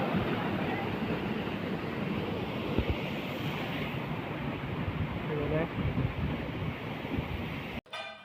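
Rani Duduma waterfall pours in a loud, steady roar of rushing water with wind noise, continuous and close for about eight seconds before cutting off abruptly.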